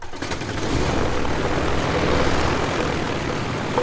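Small propeller plane flying over fields to release sterile fly pupae, a loud close engine roar that swells and then holds steady for a few seconds.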